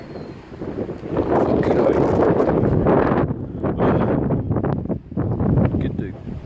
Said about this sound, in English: now it's starting to get a little drizzly and windy at the same time